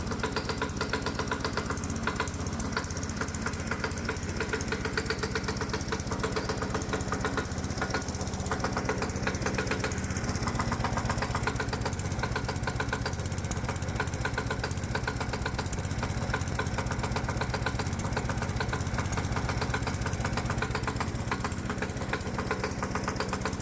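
A small hot bulb semi-diesel lawnmower engine running on alcohol chugs steadily and loudly for the whole stretch, a rough, knocking idle with no pauses and no voices.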